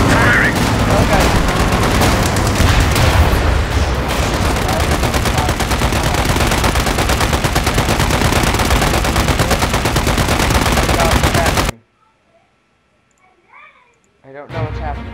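A tank in a video game fires its guns in a long, dense burst of loud, rapid gunfire that runs for most of the span, then cuts to near silence before a short final burst.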